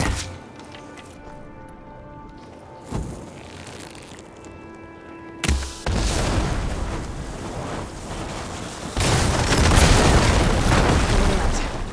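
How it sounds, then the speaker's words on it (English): Blaze barrels blown apart by fire ammo in Horizon Forbidden West, a loud booming explosion followed by a long roaring rush of fire and debris that swells again into a sustained heavy rumble. "Hitting those blaze barrels with fire ammo should do the trick."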